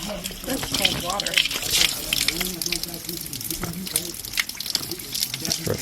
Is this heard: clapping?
no